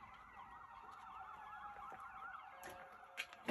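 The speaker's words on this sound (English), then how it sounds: "Sorry about the sirens, guys." Emergency vehicle sirens from a street near a fire department, hospital and ambulance base wail steadily with a rising and falling pitch, fairly faint and distant, with a couple of brief clicks near the end.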